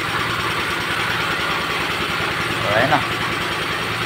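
A Suzuki Multicab with an F6A engine idles in a steady, even drone just after starting, with a voice speaking briefly over it near the end.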